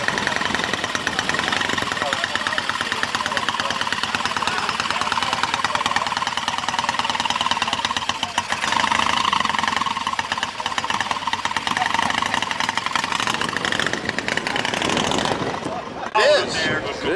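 A BMW motorcycle engine runs at a street bike gathering in Bogota, a steady loud rumbling drone that holds for the whole stretch with people talking over it.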